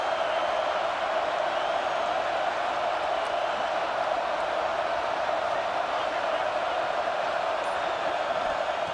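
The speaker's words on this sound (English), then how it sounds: "this home crowd is fired up and ready to make a difference today" A home crowd cheers in a college football video game with Ohio State at Clemson, heard as a steady, dense roar of many voices throughout, loud and unbroken, without distinct individual shouts.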